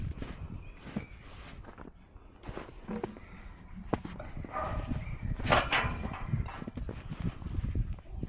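A dog barks repeatedly on a farm near cattle and a shop, the sharp calls rising over clattering footsteps and handling noises, at moderate distance.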